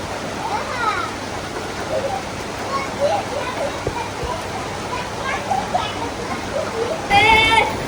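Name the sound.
rain falling in a paddy field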